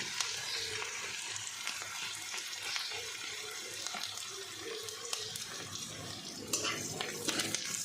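Turmeric and masala frying in oil for tomato chutney, an even, hissing sizzle with occasional stirring scrapes, steady and moderately loud throughout.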